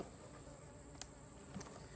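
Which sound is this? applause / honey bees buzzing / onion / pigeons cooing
honey bees buzzing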